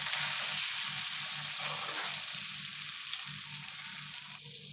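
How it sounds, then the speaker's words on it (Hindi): Ginger fries in hot oil for a chicken makhni handi, a loud, continuous close-up sizzle with fine crackling that holds steady for several seconds, easing slightly at the end. "अदरक भी डाल देती हूँ।"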